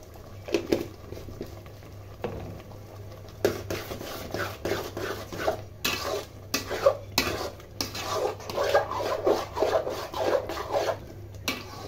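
Raw green mango pickle with chili powder is stirred in a pot, giving a series of uneven scraping and rubbing strokes. They come in irregular bursts, moderately loud and close, with short pauses between them.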